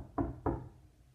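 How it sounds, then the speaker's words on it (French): Two firm knocks on a door a fraction of a second apart, close and clear, followed by quiet, as wolves arrive on a Christmas evening in a children's story. "les loups frappent à la porte."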